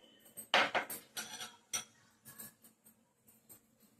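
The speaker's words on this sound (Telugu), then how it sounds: "చిన్న స్పూన్తో నాలుగు స్పూన్లు మనం సగం దీనికి వేసుకుని" A small spoon scooping spices for a goat legs curry, giving a few close metallic clinks and scrapes against a container, with quieter taps trailing off.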